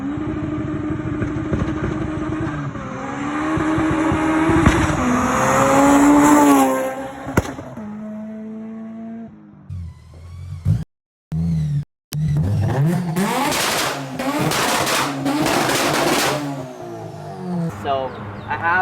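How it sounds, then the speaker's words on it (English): Honda S2000 with Skunk2 headers, decatted, and a Skunk2 dual exit exhaust, revving loudly with rising and falling engine notes, brief cut-offs and sharp pops, close by. "the exhaust and the flames and sounds that this car makes"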